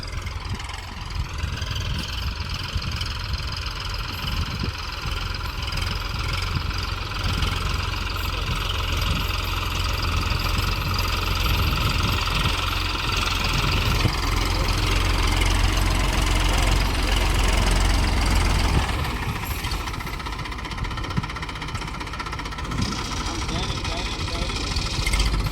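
A tractor engine runs steadily while sowing a winter wheat field in a village, its continuous low rumble and mechanical knock close and loud throughout, with a slight shift in tone near the end.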